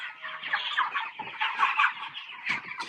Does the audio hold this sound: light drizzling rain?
no